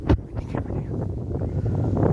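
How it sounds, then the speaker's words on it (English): Wind gusting at a lookout in Katoomba, a low rushing buffet against the microphone, rising and steady after a brief sharp thump at the start. "I got the wind blowing on me"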